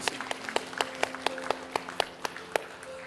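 Scattered applause from a church congregation for the pastor's wife, with distinct, evenly spaced single claps ringing out over a faint background hum.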